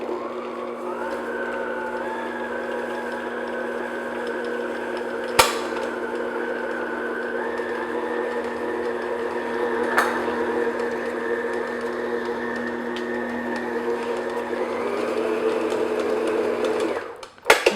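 An electric mixer churns oatmeal raisin cookie dough with chocolate chips, a steady close whirring drone that holds for the whole stretch, with a couple of sharp clicks and a pitch rise near the end before it cuts off.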